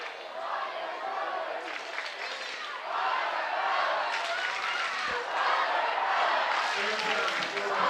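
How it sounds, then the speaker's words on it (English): Crowd noise at a high school football game in a stadium, Lincoln at Shelton: a steady, loud wash of cheering and applause filling the whole stretch, rising slightly after a few seconds. "Nice crowd here at High Climber Stadium."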